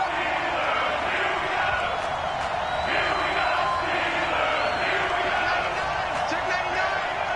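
Stadium crowd in the Madden 20 football video game roars steadily before a big third down, a dense and continuous wash of cheering that runs beneath a commentator's voice.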